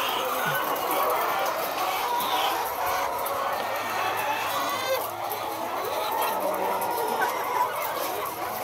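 Chickens cluck and chatter throughout at a poultry farm of about 400 birds in Valaga, Mabini, Bohol, a busy overlapping flock sound with faint voices in the background.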